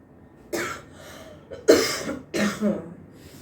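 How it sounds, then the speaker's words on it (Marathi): Several harsh coughs in a row, close and loud, separated by short pauses, with no talking. "हा खोकला"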